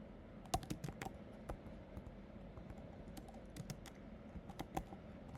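Arduino code is typed on a computer keyboard in quick, uneven bursts of light key clicks, close and quiet, with a few louder taps.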